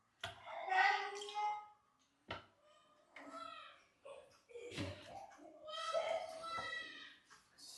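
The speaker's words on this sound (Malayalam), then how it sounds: "പിള്ളേർ അപ്പുറത്ത് കിടന്ന് കളിക്കുന്നതിന്റെ ഒച്ച കേൾക്കുന്ന." Children's voices at play nearby in a home, rising in several lively bursts with short gaps between them, fairly close and clear.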